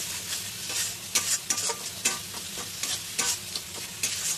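Fish roe curry with cauliflower being lightly fried with salt in a pan, a soft steady sizzle broken by repeated sharp scrapes and knocks of a spatula stirring, close, with no voices.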